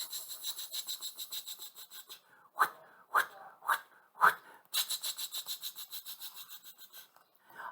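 A voice imitates a rotating lawn sprinkler, with bursts of rapid, evenly spaced breathy ticks, a few slower, heavier spurts in the middle, then the fast ticking resumes before a final short puff. It is close, dry and alone.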